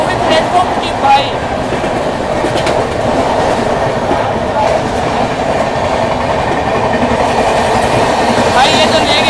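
Two trains running side by side at high speed between platforms, a steady loud rolling roar of wheels on rail with clickety-clack and faint squeals throughout, no gaps.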